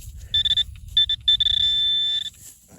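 Metal detector signalling a buried target at a treasure trove site, giving a high electronic tone in short broken beeps that becomes one steady held tone, clear over low rustling ground noise.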